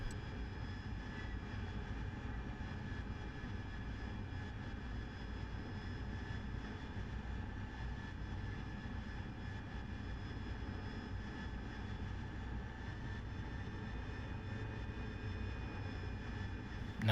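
In DCS World, a RAZBAM AV-8B Harrier hovers in jet-borne flight, its jet engine giving a loud, steady roar with a whining tone that holds unbroken throughout.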